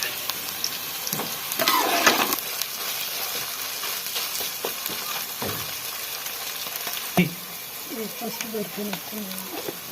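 Spices for tempering fry in oil over a low flame, giving a moderate crackling sizzle that swells briefly, with a few stirring scrapes and a soft voice speaking near the end.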